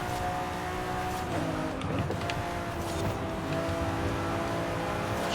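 In the racing video game Forza Horizon 5, set in Mexico, a race car engine drones steadily with a sustained mid-pitched roar while chasing a Ferrari F40 on the road ahead. It is continuous and fairly loud, without speech.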